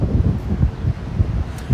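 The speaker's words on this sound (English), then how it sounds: "it's super windy over here" Gusty wind on the Williamsburg Bridge buffets the microphone in uneven low rumbling bursts, loud and close, with no voices.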